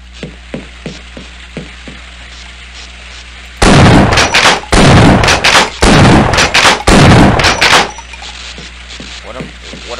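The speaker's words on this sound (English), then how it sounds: "Stop firing! I didn't mean to fire!" Bursts of rapid gunfire in the Half-Life video game, a pistol fired repeatedly in four loud dense volleys separated by brief gaps, with lighter clicks and taps before and after.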